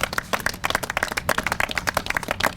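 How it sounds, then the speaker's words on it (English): A round of applause breaks out at an outdoor press conference in Suitland celebrating road funding, with dense, steady clapping from a small gathered crowd lasting throughout, no voices over it. "let's give a round of applause for that"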